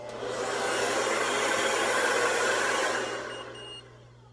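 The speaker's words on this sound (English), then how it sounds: "What I like to do to dry it faster, blow dryer on cold." A hair dryer blows on its cold setting to dry skin after an Omnipod change, a loud steady broadband rush that swells up, holds for a few seconds, then winds down and fades near the end.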